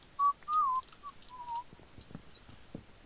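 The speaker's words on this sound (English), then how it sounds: "I used to be good at whistling." A person whistles a short melodic tune alone, with a few clear sustained notes near the start before it trails off into quiet background ticks and soft knocks.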